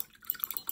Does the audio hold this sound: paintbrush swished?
yes